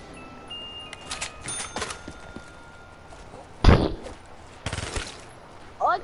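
Gunshots in a shooter video game, a few sharp bursts and single cracks scattered among quieter stretches, moderately loud over low background noise.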